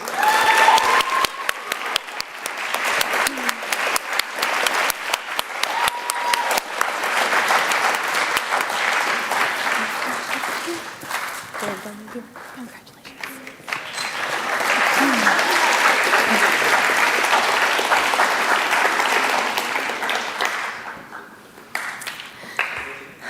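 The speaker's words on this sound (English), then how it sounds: "Please give a round of applause to Lily McCoy." Audience at a high school band concert breaks into sustained, loud applause that fades briefly midway, swells again, and tapers off near the end, with a few scattered claps.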